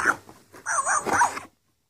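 An interactive toy pug puppy gives a short run of small electronic barks and yips, close and clear, two or three quick bursts before falling silent.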